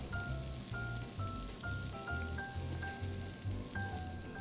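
Olive oil sizzles steadily in a pan for pan-seared salmon, a close, continuous crackle over a low rumble, with faint tonal sounds drifting through the background.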